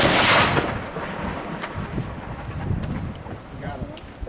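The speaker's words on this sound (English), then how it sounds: "The cannons are loud" A historic cannon fired in a demonstration at Fort Mackinac, one huge outdoor boom at the start that rolls into a long fading rumble and wind noise.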